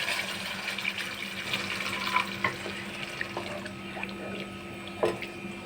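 A cup of water is poured into a pan of Kashmiri aloo dum, giving a steady wash of splashing and sizzling with a few sharp clinks of utensils.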